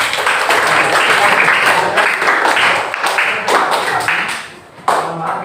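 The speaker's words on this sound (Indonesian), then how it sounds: "tepuk tangan untuk kelompok." Classroom students clapping for a presenting group during a lesson, a loud dense burst of hands that holds steady, briefly dips, then picks up again at the end, with no talk over it.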